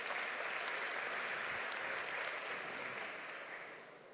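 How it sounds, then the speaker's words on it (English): An audience breaks into a steady round of applause after a question at a robot event, dense clapping that holds for several seconds and then tapers slightly at the end, with no talking. "Round of applause for that question"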